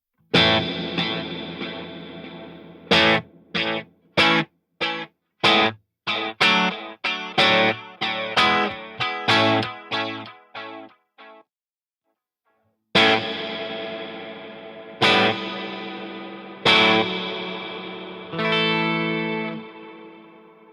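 Electric guitar notes pass through delay and reverb effects, with a run of short, choppy strums followed by a pause and then long, echoing ringing chords.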